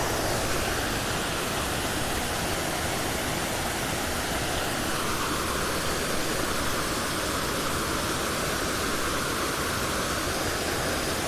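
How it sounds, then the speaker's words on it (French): Steady, dense rushing water roaring without pause, broadband and constant like a waterfall heard up close. "Je vous laisse écouter un petit peu le bruit de la cascade."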